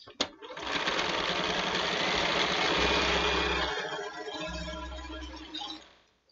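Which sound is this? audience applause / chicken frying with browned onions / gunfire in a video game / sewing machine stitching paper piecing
sewing machine stitching paper piecing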